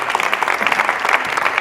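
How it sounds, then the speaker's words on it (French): A studio audience applauds as a fashion designer is welcomed on a French television show: dense, loud clapping with a few cheers, continuous for the brief stretch. "Sous vos applaudissements."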